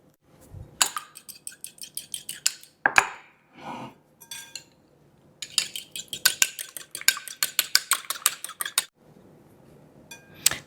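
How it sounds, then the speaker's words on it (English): An egg beaten lightly in a bowl with a fork or whisk, heard as quick rhythmic metallic clinks and taps in a few bursts with short pauses between, close and clear with no talk. "I like to make sure that my egg is lightly beaten."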